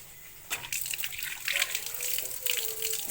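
Water running from a tap while hands are washed, starting suddenly and continuing as a steady close gush and splash, with a brief bit of speech at the start.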